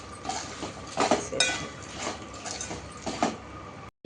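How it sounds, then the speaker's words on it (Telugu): A spoon scrapes and clinks against a pan while a fried poha (flattened rice) snack mixture seasoned with salt and chili powder is stirred, giving irregular close taps and scrapes with no talking. "ఉప్పు కారం వేసినా కదా, కలవాలన్నీ కలిసేంత వరకు మంచిగా కలుపుతూ"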